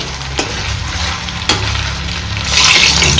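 Gulab jamun balls frying in hot oil at home, a steady close sizzle and bubbling with a couple of sharp utensil taps and a brighter surge of crackle near the end.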